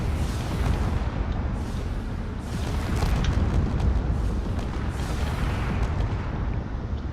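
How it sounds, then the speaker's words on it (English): Sustained, rumbling explosions and heavy booming roll on continuously as a cruiser breaks apart in a space combat video game, with repeated blasts layered over a deep, roaring low end and no talking. "There we go, more pieces of it are just falling apart here."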